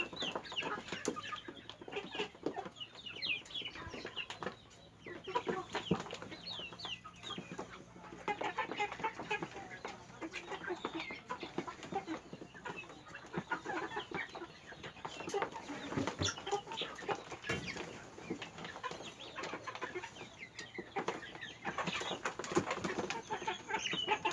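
Crossbred chickens, a mix of large and small breeds, cluck softly and continuously around a farm pen, faint and somewhat distant, with scattered calls overlapping.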